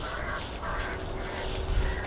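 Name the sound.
pre-recorded bird distress call played to scare birds at airfield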